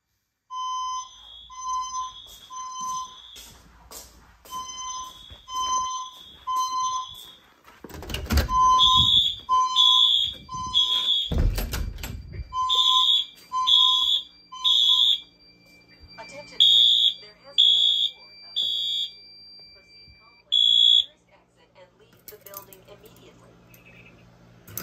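Fire alarm system test with white notification devices: repeated electronic alarm tones in steady on-off bursts, with a few loud thumps and brief talk mixed in partway through, indoors.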